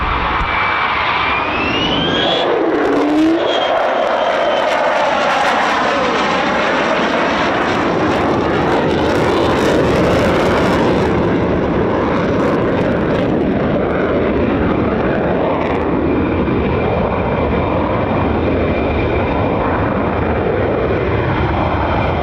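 A loud, steady roar of jet fighters, F-15s, near a fighter base, sustained and broadband throughout with a rising whine early on.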